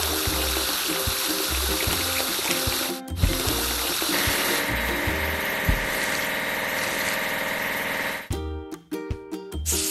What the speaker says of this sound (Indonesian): Kita perlu mencuci mesin penggali.